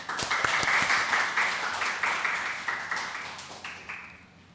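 A room full of people at a Sunday church service claps together in sustained applause that gradually fades toward the end.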